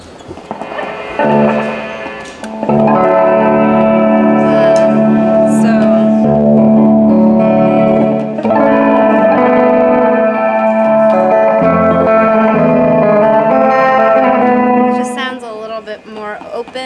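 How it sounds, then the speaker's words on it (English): Electric guitar in an unusual alternate tuning played through effects, sustained chords ringing with heavy echo, reverb and some distortion, loud and close, starting after a brief opening note. "This guitar is actually tuned super funky."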